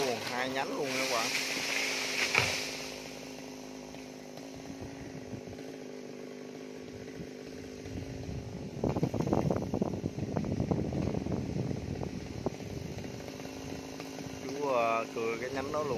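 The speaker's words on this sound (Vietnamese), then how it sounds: "Giờ chú cưa tiếp nha, nhánh đó cho vớt" A chainsaw cuts large branches from a big agarwood (dáng hương) tree, its engine droning steadily and rising to a harsher, louder cut midway, with someone talking over it.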